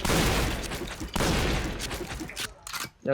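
An NC2016 series gun fires in loud, close bursts of rapid shots, two long strings followed by a few shorter volleys before a sudden stop, with no talk.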